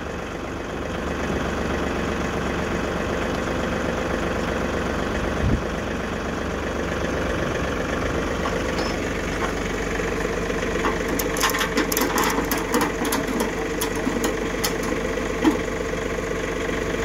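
Tractor engine running steadily at idle, a loud continuous mechanical drone with rattling vibration and some clattering toward the end, no speech.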